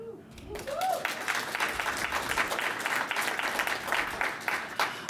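Audience applause at a women's conference candidate forum, a sustained burst of many hands clapping that swells in after a brief spoken line and carries steadily to the end.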